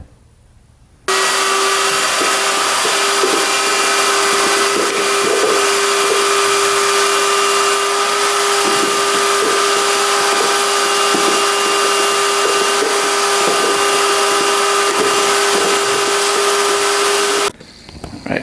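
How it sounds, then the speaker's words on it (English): A loud, steady vacuum whine switches on abruptly and runs continuously with a constant pitch, cutting off sharply near the end, as a vacuum cleaner cleans out an ATV air box. "We're gonna vacuum that out."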